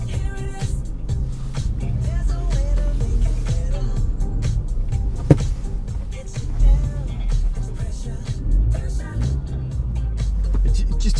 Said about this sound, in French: C'est les voitures qui arrivent.